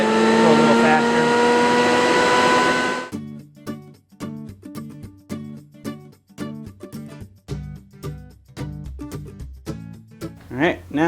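A router with a 2.5-inch diameter bit, run at low speed, cuts into an acoustic guitar neck joint fixture in a woodshop. A steady, loud motor whine lasts about three seconds and then stops, followed by someone talking.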